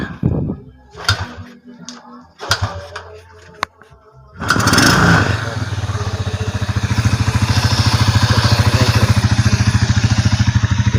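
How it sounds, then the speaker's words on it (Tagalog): A motorcycle engine starts after a few clanks and settles into a steady, close, rhythmic idle that runs loud to the end. "Ito ang kanyang makina, tahimik na, wala nang ingay mga guys."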